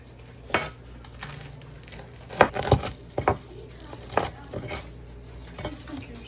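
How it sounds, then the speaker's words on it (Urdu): A knife cuts through crispy fried chicken with a few sharp crunches and clinks against the plate, scattered bursts separated by quiet pauses, close but fairly soft. "یہاں پہ ہم چکن کی کٹنگ کر رہے ہیں, اور آپ نے ان کا کرنچ سنا"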